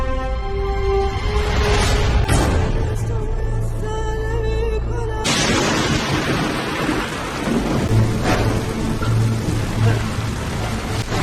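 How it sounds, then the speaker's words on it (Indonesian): Heavy rain pours steadily in a downpour, loud and continuous, with a rumble of thunder breaking in partway through and the wash of rain filling the whole stretch. "Kayaknya hujan bakal deras nih."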